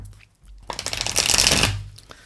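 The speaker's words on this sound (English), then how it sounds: "You get 3 shuffles there to the bottom." A deck of tarot cards is shuffled in one quick riffling burst, close and crisp, rising to a dense flutter before stopping, with no voices over it.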